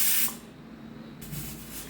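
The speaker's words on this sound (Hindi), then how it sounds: "और ये तीसरी सीटी लग गई।" A pressure cooker on a gas stove at medium flame, cooking mango for jam, lets off its whistle as a sharp steam hiss, fading briefly and then returning.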